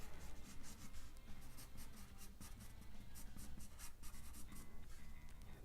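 Pencil scratching across paper in short repeated strokes, sketching small triangular hairs on a cartoon figure; a soft, steady scribbling texture, close and fairly quiet, with no voice.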